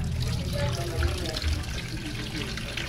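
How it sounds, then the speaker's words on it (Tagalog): Running water trickles and splashes steadily over a frying pan being washed in a kitchen, a continuous close wash with faint clinks. "Ato sa ni hugasan guys ha, ang kalaha ba."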